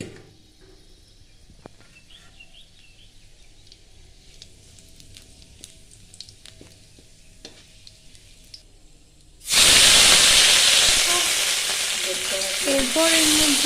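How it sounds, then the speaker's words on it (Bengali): Bay leaves, dried red chilies and whole garam masala spices hitting hot oil in a kadai, a sudden loud burst of sizzling and spitting after a quiet stretch of soft clinks, then a sustained hiss as they are stirred. "কড়াইয়ের মধ্যে তেল দিয়ে তার মধ্যে তেজপাতা, শুকনো লঙ্কা আর গোটা গরম মশলা দিয়ে একটু নাড়াচাড়া করে নিতে হবে।"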